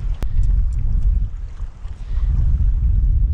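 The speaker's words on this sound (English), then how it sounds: "Windy as all hell," Heavy wind at a coastal fishing spot at low tide roars and buffets the microphone with deep, continuous rumbling gusts, close and loud throughout.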